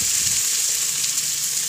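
Food sizzles steadily in a hot pan in a home kitchen, making a continuous bright hiss of frying oil, close and even in loudness, with no talking.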